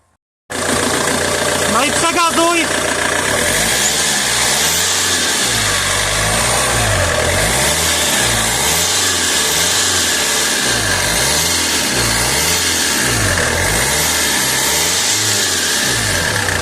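A BMW-era car engine with a 4A63 code, mid-repair on its heater core and leaking oil, cranks to life in a workshop, then idles roughly with rhythmic surging revs for over ten seconds, loud and close, with a brief voice near the start.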